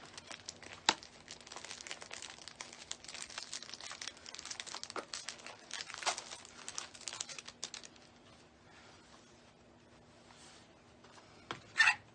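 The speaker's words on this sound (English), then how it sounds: "I'm just dovetailing the ends, which is folding my ribbon in half and making a cut." Wreath ribbon is handled and cut with scissors at a bowmaker, with dense crinkling and rustling up close for most of the stretch, then a quieter pause and a final sharp snip or crinkle.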